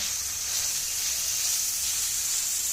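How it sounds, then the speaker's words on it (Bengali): Onion and green chili sauté in a pan after rui fish has been fried, giving a continuous soft sizzling hiss, steady and even throughout with no voices. "পেঁয়াজ পিয়াল এবং কাঁচামরিচ দিয়ে ভালো করে কষিয়ে নিব"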